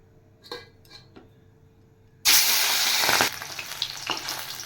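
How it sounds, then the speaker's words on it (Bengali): Bele fish drop into hot oil, starting a sudden loud sizzle after a few quiet utensil clinks, then settling into steady frying that continues to the end. "এবার আমি মাছগুলো ভেজে নেব।"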